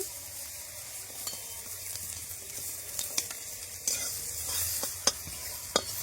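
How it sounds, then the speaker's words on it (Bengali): Carrot pieces fry in hot oil with cinnamon and peppercorns, a continuous close sizzle broken by sharp stirring clicks and spoon knocks on the pan. "এখন টুকরো করে কেটে রাখা গাজরগুলো দিয়ে দিচ্ছি"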